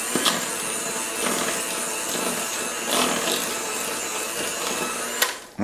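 Chopped walnuts and a small pinch of sunflower seeds are stirred into banana bread batter, giving a steady close scraping and stirring with faint knocks against the bowl, no voices.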